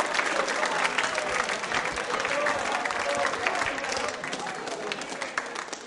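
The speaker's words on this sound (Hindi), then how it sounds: "जोरदार तालियां बजनी चाहिए।" Loud, dense applause from a school audience at a quiz show, steady and continuous with some crowd murmur mixed in, easing slightly toward the end.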